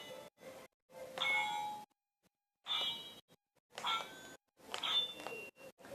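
A Lord of the Rings toy sword with a button-triggered electronic sound effect plays repeated metallic clangs and ringing dings in short bursts separated by silences, close and clear with no talk.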